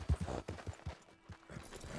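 Horse hooves clip-clopping in a Western video game, a quick uneven run of close, moderately loud hoof strikes over about two seconds with no talking.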